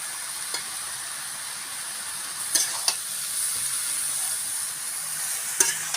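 Kalo kochu curry in a pan gives a constant soft sizzle and hiss, broken by a few brief scraping and clanking strokes as it is stirred.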